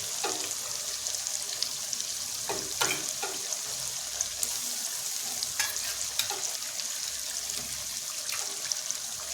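Onion with ginger and garlic paste frying on a low flame for a dry chicken curry, a soft continuous sizzle broken by repeated scraping strokes of a spoon against the pan, with no talking.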